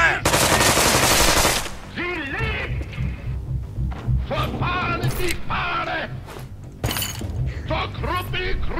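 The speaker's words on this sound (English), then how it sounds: "There, open fire!" Video game gunfire from South Park: The Stick of Truth opens with a loud burst of rapid automatic fire, followed by scattered sharp shots and clatter mixed under game voices.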